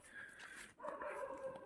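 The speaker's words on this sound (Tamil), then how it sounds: "நாய் வேறு குலைக்க ஆரம்பிச்சிச்சு." A dog barks and yips several times outdoors near a temple-like spot in Kiliyur by Yercaud falls, fairly clear but not close, with a short break mid-way.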